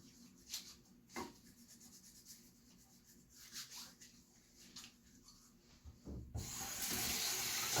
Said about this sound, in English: Then I will then wash my hands.